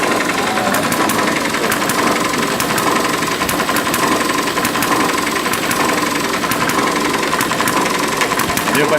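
A model steam engine with a flyball governor runs continuously, giving a steady mechanical whir with a fast, regular ticking beat throughout.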